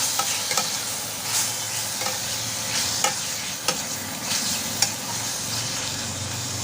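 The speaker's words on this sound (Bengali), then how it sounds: "এবার এর মধ্যে আমি ওই রসুন টমেটো আর কাঁচা লঙ্কা মাখানোটা দিয়ে দিলাম" Onion, garlic, tomato and green chili stir-fried in a wok, a steady loud sizzle broken by repeated scraping clicks of the spatula against the pan, close and continuous with no talk.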